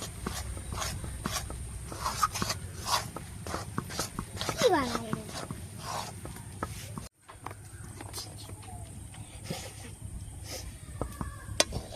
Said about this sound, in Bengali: এবার দিয়ে দিচ্ছি ময়দা। এবার এটাকে ভালো করে মাখিয়ে নেব।